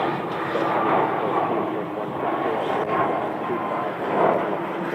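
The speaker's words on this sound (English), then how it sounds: "On the other side, we have one taking off right now," Airliner taking off at Phoenix Sky Harbor: a steady, broad roar of jet engines holding at constant loudness throughout, heard from a distance, with no break.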